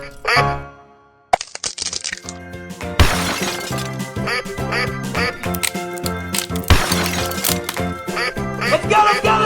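A duck quacking amid loud, busy animated-cartoon music and effects, with repeated sharp honking calls and crashing sounds over a dense backing.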